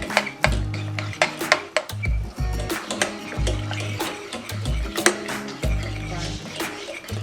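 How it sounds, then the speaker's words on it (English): Cornmeal porridge being stirred in a pot for Jamaican breakfast: close, rhythmic scraping strokes of a spoon against the pot with dull knocks, repeating steadily and loudly with no talking. "Constant mixing is very necessary because we don't want no whole heap of lump or no lumps at all in the porridge"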